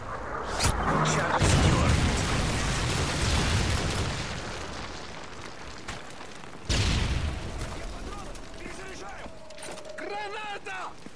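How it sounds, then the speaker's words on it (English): A Predator missile explosion in Call of Duty MW3: a heavy rumbling blast early on that swells and slowly fades, then a sharper second boom near the middle, under battlefield chatter and radio voices. "Friendly Predator missile inbound."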